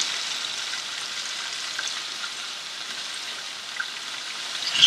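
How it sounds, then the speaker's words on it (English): Onions with curry leaves frying in a pan for a vegetable gravy, a steady soft sizzle crackling evenly throughout with a few faint pops and no voices. "So we let the onions lose some of its moisture and start getting cooked."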